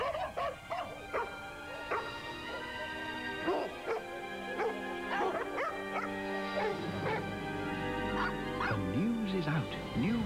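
A dog barks, yips and whimpers repeatedly in a Pedigree dog food advert, the calls close and lively over background music.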